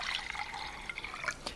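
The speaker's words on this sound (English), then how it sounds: "We're just going to add water," Water poured into a small, slightly rounded empty glass vase for a flower arrangement, a steady trickling fill with bright splashy texture that carries on throughout, fairly quiet and close.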